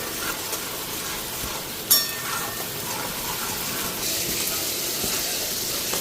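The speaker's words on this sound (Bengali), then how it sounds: "এইদিকে মশলাটা ফ্রাই করে নিতেছি বড় মাছের জন্য" Spice paste frying in a pan for a large-fish curry, a steady soft sizzle throughout with a brief clatter of stirring near the start.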